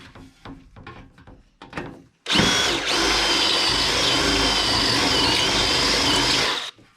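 A power drill with a step drill bit whines loudly and steadily through rusty truck bed metal for about four seconds, preceded by a few short clicks and taps, then stops abruptly.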